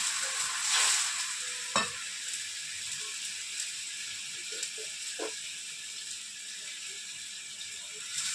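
Rolled aloo masala kulcha flatbread laid into a hot pan with a splash of water, giving a steady soft sizzle with a few sharp clicks and clatters of the pan.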